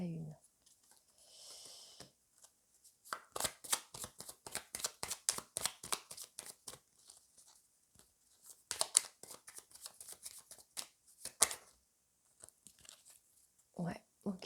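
Tarot cards are shuffled in a long run of quick crisp riffles and flutters, close and clear, with a few pauses and soft handling noises, and a voice speaks briefly near the start and end.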